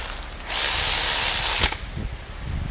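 Tool tightening an alternator bracket bolt during an LS swap on a Lexus IS300, a close, loud burst of ratcheting or driving noise lasting about a second, then a sharp click and quieter mechanical handling.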